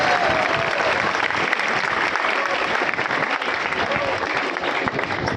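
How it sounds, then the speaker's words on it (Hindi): A large audience at an award ceremony claps loudly and continuously, a dense, even wash of applause held throughout with no pause. "एक बार जोरदार ताली बजाकर आप उनका अभिनंदन कीजिए"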